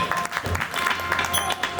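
Audience applause welcoming Dhirajbhai at a live music gathering, a dense run of clapping from a crowd, moderately loud and continuous with a faint hum underneath.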